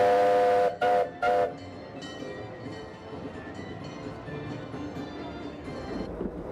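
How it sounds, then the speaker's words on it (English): A theme park train rumbles along steadily, opening with a few loud horn or whistle blasts, then a continuous rolling clatter that swells slightly toward the end. "This train takes 20 minutes to do a circuit of the park"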